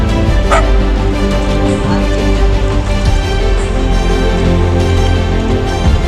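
Dogs bark outdoors where several strays gather in rows, loud, close barks and yips repeating irregularly over a steady background din.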